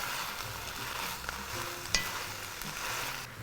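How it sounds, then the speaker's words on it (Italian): Chopped peppers, friggitelli and celery are stirred in a pan over raised heat with onions, giving steady frying sizzle and crackle and a brief utensil clink near the middle, with no talking. "si alza il fuoco e si mettono gli altri ingredienti tagliati: i peperoni, i friggitelli, il sedano"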